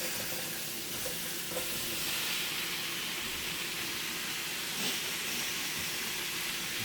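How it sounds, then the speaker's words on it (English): Food sizzling and hissing steadily in a hot frying pan, a dense continuous crackle with no talking. "Now you put it back into the frying pan."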